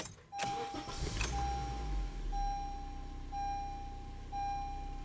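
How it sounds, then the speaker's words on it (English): A 2015 Honda Civic engine cranks briefly and catches, settling into a low steady idle while a dashboard warning chime beeps repeatedly at an even pace in an enclosed cabin. "So now I'm gonna start the engine to see if that light is gonna remain off."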